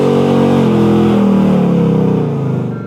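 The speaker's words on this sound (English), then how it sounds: "Unnecessary burnout." A car engine roars loud and steady during a tire burnout, with the tone wavering slightly as it holds revs before easing off at the end.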